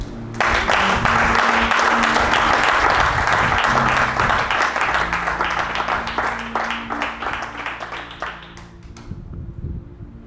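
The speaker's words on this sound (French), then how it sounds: "Acclame Jésus" Church congregation applauding: dense, steady clapping from a large crowd that holds for about nine seconds before thinning out, with a faint sustained tone underneath.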